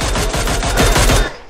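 A loud rapid burst of automatic gunfire from PUBG Mobile rattles close and steady for over a second, then cuts off.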